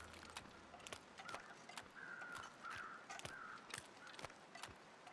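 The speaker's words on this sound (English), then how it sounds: "So there's just crows circling over nothing." Crows caw repeatedly in a snowy wilderness of the survival game The Long Dark, sharp calls spaced irregularly over a faint wind bed, with a few drawn-out croaks in the middle and no talk.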